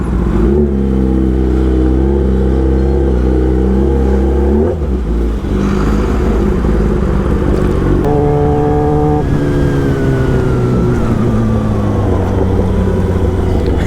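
Two motorcycles, a 220 and a Yamaha R15, riding on a road toward Joypur forest in Bankura, with loud close engines revving and shifting through gears under steady wind noise.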